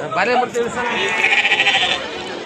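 Several sheep bleat loudly and close by at a sheep market in Magadi, India, one long wavering bleat following shorter calls, with a voice talking over them.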